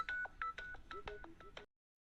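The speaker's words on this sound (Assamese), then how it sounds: "ৰবা ফোন এটা আহিছে" A phone rings with a quick run of about eight short electronic beeps, clear and close, then cuts to silence.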